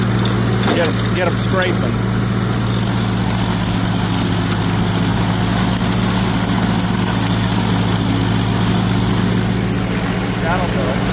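A mower cuts through vegetation along a field edge, its engine droning steadily and loudly throughout with a low constant hum, while someone speaks over it.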